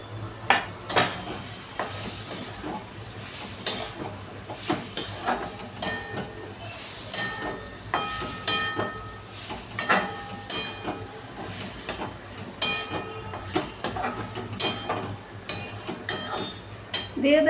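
Fried potatoes tumble into a pan for an aloo and soya chunk doi kalia, then get stirred with a steady rhythm of sharp metal spoon scrapes and clanks against the pan over a low background hum, with no talking.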